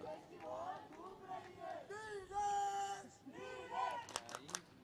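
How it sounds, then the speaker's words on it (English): Spectators at a local evening cricket match at Sheetal Ground chant and shout together, rising and falling voices with a sustained loud chant in the middle, heard from a distance. "Now we are hearing some quite interesting chants in the crowd"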